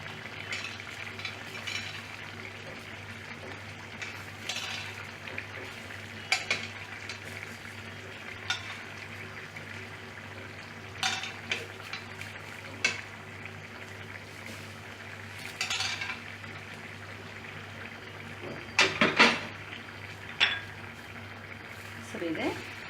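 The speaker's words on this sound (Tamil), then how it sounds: "தேங்காய் கலவையை சேர்த்து இதனை ஒரு 3 நிமிடம் கொதிக்க விடுவோம்" Coconut mixture for egg kurma curry simmering in a pan with halved boiled eggs, a soft steady bubbling and sizzle with occasional spoon scrapes and clinks of a utensil against the pot throughout.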